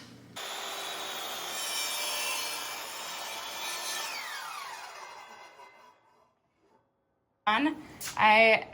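A saw cuts through wood with a steady rasping rumble for several seconds, fades to quiet, then a voice speaks briefly.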